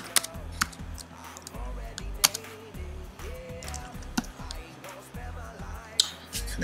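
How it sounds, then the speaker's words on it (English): Short message typed on a computer keyboard, a quiet scatter of uneven key clicks and taps, close by and with no one talking. "I can type a little message."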